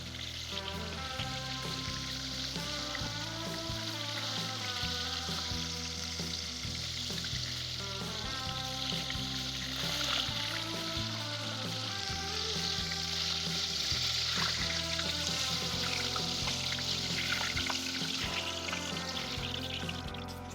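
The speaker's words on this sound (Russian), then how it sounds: "Аналогичным образом обжариваем всю остальную рыбу." Battered pollock fillets frying in oil, a dense continuous sizzle and crackle held steady throughout, close and even, with background music running underneath.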